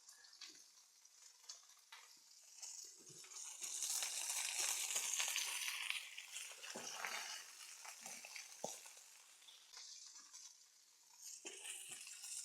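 A thick tomahawk steak sears in a hot pan, giving a steady, loud sizzling hiss that swells in the middle, with scattered pops and crackles throughout and no talking.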